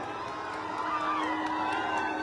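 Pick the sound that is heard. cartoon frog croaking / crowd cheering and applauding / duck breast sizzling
crowd cheering and applauding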